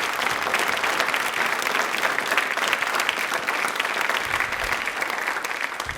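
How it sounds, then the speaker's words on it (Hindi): An audience at a Rajasthan general-knowledge quiz event gives steady, sustained applause, a dense and even wash of many hands clapping throughout. "और तालियां इसके लिए जोरों से बनी चाहिए"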